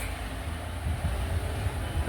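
Train at a level crossing by Allepy station in Kerala, a continuous low rumble and hum of the stopped or slowly moving rail cars, steady and moderately loud with no voices.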